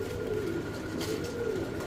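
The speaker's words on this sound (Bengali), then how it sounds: "এটা একটা বোম্বাই কবুতর" A female Bombay pigeon of tandologen colour coos steadily and up close, a low rolling warble repeating through the moment against a faint background hum.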